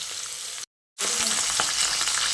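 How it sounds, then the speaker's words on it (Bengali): Chicken pieces frying in hot oil in a pan for biryani, a steady dense sizzle that cuts out briefly near the start and then resumes, close and loud with no talking. "আর এই 4-5 মিনিট মতো করে চিকেনটাকে ভেজে নেব।"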